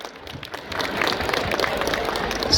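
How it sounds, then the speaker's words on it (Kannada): A crowd at a drug-awareness marathon event in KGF applauds in honour of the police department, the dense clapping swelling steadily from fairly soft to loud and sustained across the whole stretch. "ಅವರಿಗೆ ಒಂದು ದೊಡ್ಡ ಚಪ್ಪಾಳೆ."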